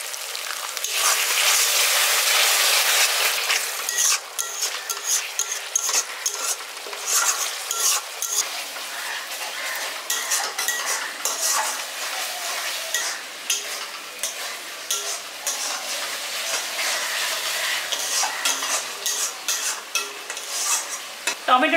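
Water poured into a pan of village-style chicken kosha with tomato, producing a loud steady sizzle and frying hiss with stirring scrapes throughout, close and continuous.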